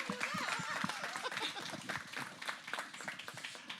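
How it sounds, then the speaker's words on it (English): An audience at a Pride question-time event claps: a patter of hand claps runs throughout and stays fairly faint, mixed with voices talking. "You just did give a clap there"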